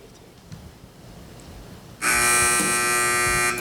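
A quiz-match answer buzzer cuts in sharply after quiet room noise, sounding as one loud, sustained electronic buzz until the end.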